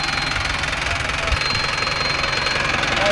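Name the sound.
Mahindra Arjun Novo 605 DI tractor engine running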